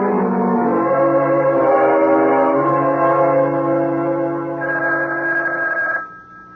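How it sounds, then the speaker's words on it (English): An old-style telephone bell rings in a late-night home setting, a loud continuous metallic ring sustained for about six seconds before cutting off, close and alone with no voices. "Wake up, the phone"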